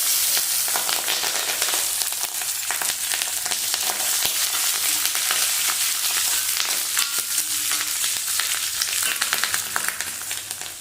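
Green chillies sizzle and crackle steadily in hot oil with tempered mustard seeds, fennel and dried red chillies, a dense continuous frying hiss with scattered pops, close and loud throughout.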